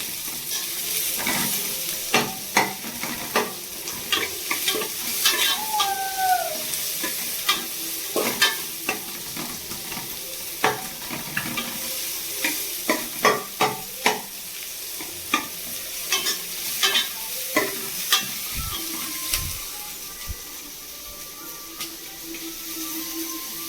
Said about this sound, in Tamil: வதக்கிடலாம். வெங்காயமெல்லாம் உடச்சி விட்டுக்கலாம்.